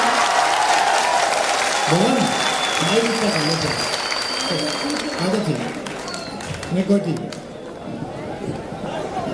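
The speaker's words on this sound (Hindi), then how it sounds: "बस एक बार आप मुझे वो तालियां दीजिए जिसकी मैं हकदार हूँ" Applause from the audience at a Hindi poetry gathering, continuous crowd clapping mixed with chatter and a voice speaking over it, the clapping fading slightly toward the end.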